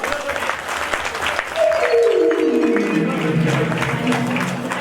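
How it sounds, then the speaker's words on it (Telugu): Audience at a 15th-anniversary event at a Shirdi Sai temple in Gandhi Chowk, Khammam, bursts into sustained applause, loud and near, while a drawn-out voice or tone slides downward over the clapping. "ఒక్కసారి చప్పట్లు కొట్టండి"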